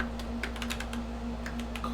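Rapid, irregular keystrokes on a computer keyboard, close and fairly quiet over a steady electrical hum, with no voices.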